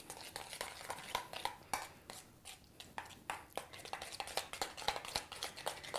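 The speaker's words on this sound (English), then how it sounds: "I mix it up" A spoon stirs homemade sour cream crema in a bowl, giving soft, faint scraping and light irregular clicks against the bowl in a quiet setting.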